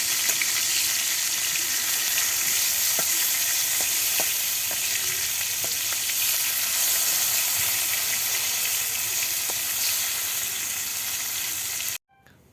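Fish sizzling in hot oil in a kadai while the pieces are turned, a steady close crackle with a few soft clicks from the flipping, ending abruptly.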